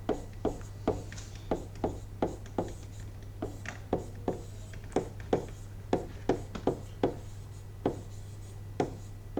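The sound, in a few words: writing the solution for a math problem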